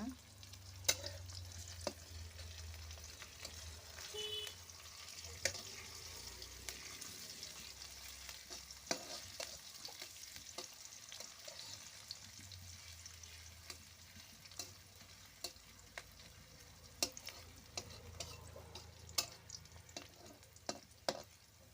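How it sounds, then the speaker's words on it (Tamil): Onions and green chilies sautéing in a pan for Tamil-style mango rice, a steady soft sizzle with repeated clicks of a spoon stirring and scraping, heard alone at close range. "வெங்காயமும் பச்சை மிளகாவும் சேர்த்துட்டேன் இப்போ நல்லா வதக்கிக்கலாம்"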